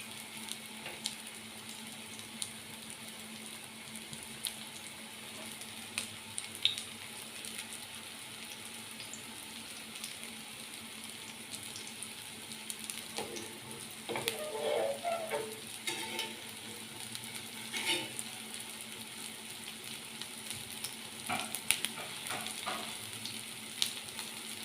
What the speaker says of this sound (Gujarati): તેલ તપી ગયું છે, તો આપણે ટિક્કીની અંદર મૂકી દઈએ.